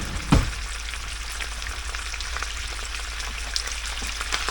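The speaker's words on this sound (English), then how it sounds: "Alright, so we got her frying up a little too high." Close, continuous sizzling and crackling of chicken in a pan over heat set too high, with a brief knock near the start and scattered pops throughout.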